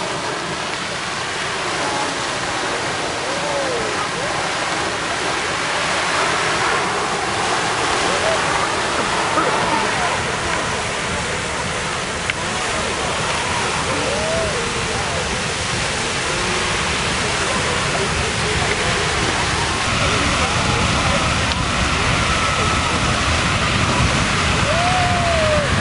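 Beehive Geyser in Yellowstone erupts with a loud, steady roaring rush of water and steam, like a waterfall, continuous for the whole stretch, with people talking faintly beneath it.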